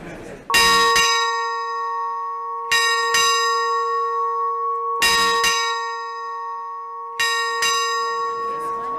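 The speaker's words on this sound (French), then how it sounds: "Le rituel de la cloche, qui va se répéter 6 fois au cours du voyage" At noon aboard a transatlantic liner, the ship's bell is struck in four double strokes, each pair a bright clang followed by a long ringing decay, loud and close, with no voices over it.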